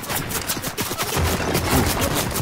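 Rapid automatic gunfire in the video game Fortnite, a dense, loud burst of shots rattling continuously through the whole moment.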